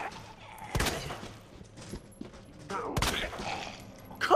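Gunfire in Resident Evil 2, with a few sharp shots spaced across a few seconds amid game ambience, fairly faint, and a player's exclamations in between.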